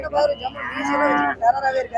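A Jersey cow at the Manapparai cattle market gives a loud, close moo lasting about a second, followed by a shorter low call, with no talk over it.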